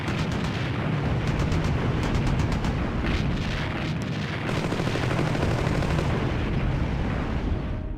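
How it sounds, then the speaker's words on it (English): Artillery fire in a World War II strategy video game, a dense continuous barrage of booming blasts and rapid gunfire, loud and sustained throughout with no talk. "Artillery fire."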